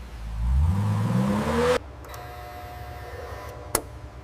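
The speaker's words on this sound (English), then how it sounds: "Dyno running, all readings within specifications." A Ferrari engine on a factory dynamometer revs loudly and steadily for under two seconds, then cuts off abruptly, leaving a quiet mechanical hum with a single sharp tick near the end.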